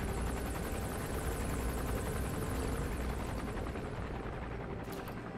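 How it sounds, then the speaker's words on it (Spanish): Helicopter in the video game Metal Gear Solid V passing at a distance, a continuous rotor drone with steady chopping texture held at an even level throughout. "¿Dónde está el helicóptero, tío? Vale, está pasando el largo."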